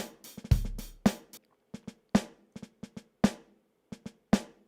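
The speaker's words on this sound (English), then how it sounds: "adding some ghost notes on the snare" Soloed MIDI snare drum playing a pattern of loud backbeat hits interleaved with quieter ghost notes, crisp and close, irregular flams and short taps between the accents, alone without voices.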